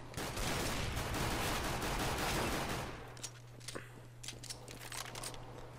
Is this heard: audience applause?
no